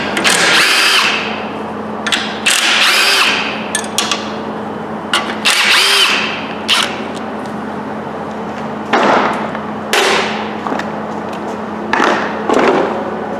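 A power tool whirs in short repeated bursts while removing the oil pickup tube bolts from a Dodge 4.7 engine during a teardown, each burst loud and close with brief pauses between them.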